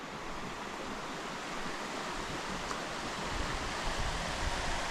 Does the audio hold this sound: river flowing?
yes